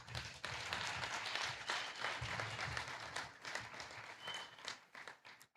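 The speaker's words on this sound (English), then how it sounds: "give yourselves a true round of applause" Audience applause at a medical school induction and awards ceremony, a faint, distant wash of many hands clapping that continues steadily for several seconds before tapering off.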